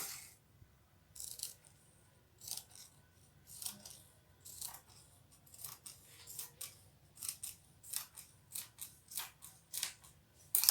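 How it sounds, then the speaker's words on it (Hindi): Scissors cutting through fabric for a Patiala salwar, a series of close, crisp snipping bursts repeating at an irregular pace and growing quicker toward the end, with quiet gaps between them. "और इसे अब हम कट करके अलग कर देंगे।"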